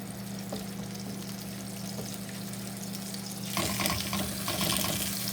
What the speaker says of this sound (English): we'll start cooking our shrimp. All right, we got our pan heated up